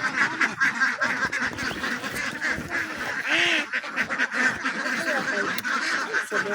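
Domestic ducks laying many eggs quack and honk in a busy, overlapping chorus at moderate distance, with scattered calls rising and falling over a faint background and no clear talk.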